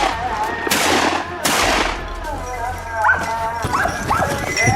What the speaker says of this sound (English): Before long, barking roared.